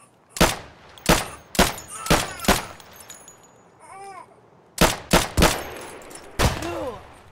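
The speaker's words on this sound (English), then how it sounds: "Was that you just shooting at them?" Gunfire in a video game, a run of loud, sharp shots spaced roughly half a second apart, then a pause and a second burst, with a brief squeal in the gap.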